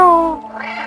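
A single short cat meow from the video game Stray, a clear tonal call that falls in pitch and fades within a second, close and loud.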